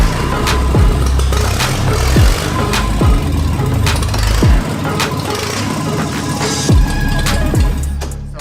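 The V6 engine of a restored 1984 Ford Capri runs with its carburetor not yet set up, giving a close, steady rumble punctuated by sharp, regularly spaced clicks.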